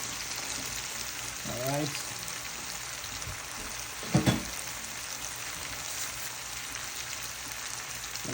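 Seim beans go into a pot of curry for a Guyanese seim and eddo curry, giving a steady close sizzle and hiss with a brief louder splash and clatter midway, while a voice speaks briefly.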